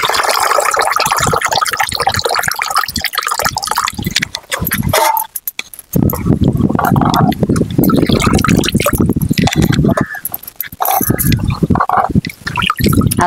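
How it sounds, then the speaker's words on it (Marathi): Soaked leafy greens are lifted out of salt water and left to drain, with close, loud splashing, sloshing and dripping that pauses briefly partway through, then resumes as the water runs off. "आपण नितळून घ्यायची, काढून घ्यायची बाहेर आणि नितळत ठेवायची"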